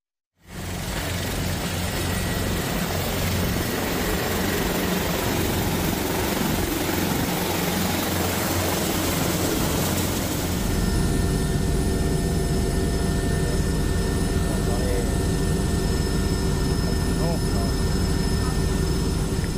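Air force and police helicopters lift landslide victims out of the mountains of Latimojong, Luwu, South Sulawesi, their loud engine and rotor roar running steadily and unbroken throughout, growing a little fuller near the end.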